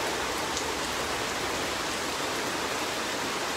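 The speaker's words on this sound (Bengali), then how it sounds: "দেখতে পাররা কিলাখান বৃষ্টি দের" Heavy, unbroken rain falls in Sylhet during a flood-season Eid, a dense even hiss of downpour heard alone without any voices.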